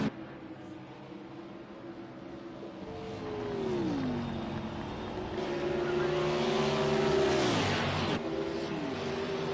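Several race cars running side by side for the lead on the Texas oval in a racing video game, engines droning steadily with swelling revs and a car sweeping past close by near the end.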